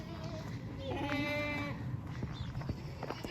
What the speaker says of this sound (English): our other goats that you can probably hear in the background